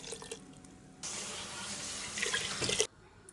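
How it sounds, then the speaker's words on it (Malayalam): Water poured from a vessel into a pot of traditional Kerala jackfruit and lentil curry, a close rushing splash lasting under two seconds that ends sharply, set against quiet kitchen background with no voices. "ഇനി ഇതിലേക്ക് ആവശ്യമായ വെള്ളം ചേർത്ത് കൊടുക്കാം"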